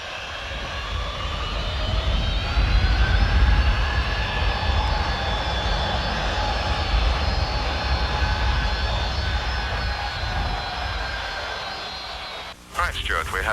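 Concorde jet engines roar in a loud, steady drone heard from inside the aircraft, with a broad rumble and a whining tone that hold for the whole stretch until a brief dip and a click near the end.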